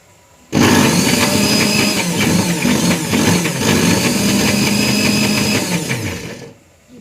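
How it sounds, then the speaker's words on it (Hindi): An electric mixer grinder blends green chili, tomato and coriander into chutney in a home kitchen, a loud steady whirring motor switched on abruptly, running about six seconds with slight pitch wobbles, then winding down. "मिक्सी की आवाज़ में जल्दी उठ जाती है वो।"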